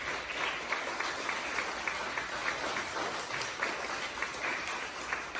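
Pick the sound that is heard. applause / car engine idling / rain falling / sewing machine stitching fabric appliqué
applause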